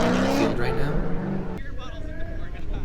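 A drift race car at Lone Star Drift roars past, loud engine revving high then dropping away after a sharp break, with someone talking over the engine noise.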